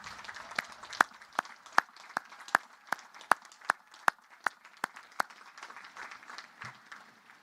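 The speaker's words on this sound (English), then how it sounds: "give them a huge round of applause to celebrate all they have done to get you to this moment" Scattered applause from the audience at a Naval Academy commissioning ceremony, with a steady run of distinct sharp claps over a soft wash of crowd clapping that fades toward the end, heard at a moderate distance.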